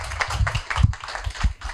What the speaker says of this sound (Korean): 여러분 박수로 모셔보도록 하겠습니다.